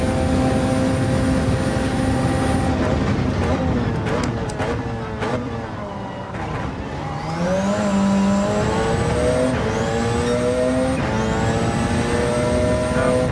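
Engine of a race car in Gran Turismo 7 at night, revving hard with rising harmonic sweeps and several quick upshifts, each marked by a brief dip in pitch before climbing again; loud and continuous throughout.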